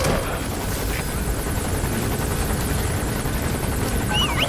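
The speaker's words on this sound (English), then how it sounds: "Looks like the arms dealer's chopper is gonna patrol for the security forces." A helicopter patrols overhead in a Metal Gear video game, its steady rotor throb loud and continuous throughout, with faint game sound effects chirping near the end.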